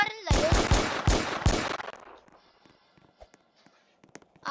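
A Roblox Brookhaven game gun fires four loud, fast, evenly spaced shots up close, followed by faint scattered clicks and footsteps.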